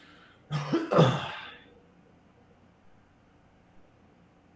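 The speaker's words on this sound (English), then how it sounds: "Lots of coughing happening." A short burst of coughing and throat clearing during a Magic: The Gathering Premodern card game session, about a second long, then near silence with faint background hiss.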